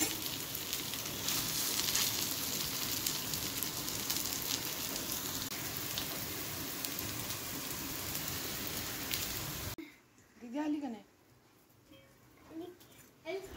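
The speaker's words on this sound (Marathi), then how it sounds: "मी याला फक्त तूप लावले तव्यावरती आणि क्रिस्पी असं पूर्ण हे फ्राय करून घेणार आहे" Vegetable kebabs shallow-fry in ghee on a tawa with a steady, dense, crackling sizzle, then the pan sound stops abruptly and someone talks over a quiet room.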